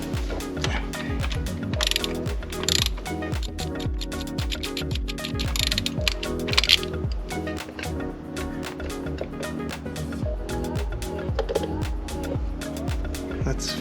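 A ratchet turns a 27 mm socket during an oil change on a 2016 Ford Edge, giving rapid close clicking bursts in uneven runs, with a person talking in between.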